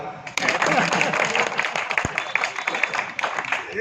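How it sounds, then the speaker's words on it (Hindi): An audience at a local gathering in Damoh claps together, a loud, dense burst of applause that holds steady for several seconds, with a single sharp knock partway through. "ताली बजा।"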